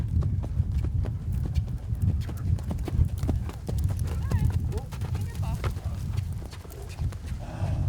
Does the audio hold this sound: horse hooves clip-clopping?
yes